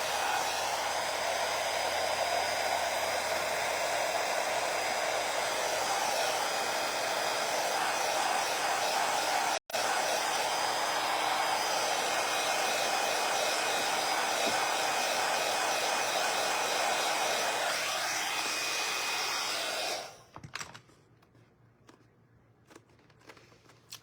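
Heat tool blowing hot air over metallic foil applied to a mannequin bust, a loud steady whooshing hiss lasting about twenty seconds with a brief dropout midway, then cutting off into quiet handling sounds.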